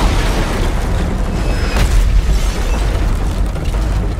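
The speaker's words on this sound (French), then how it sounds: "Tire de mortier à droite Mortier à gauche" Mortar fire in the video game Call of Duty: Modern Warfare 3, a loud continuous low rumble of explosions with booming bursts that stays dense and heavy the whole time.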